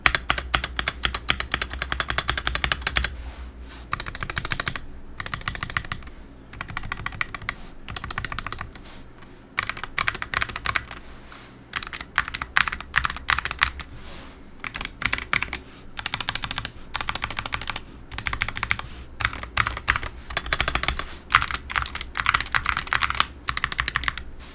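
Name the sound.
typing on SteelSeries Apex Pro Mini keyboard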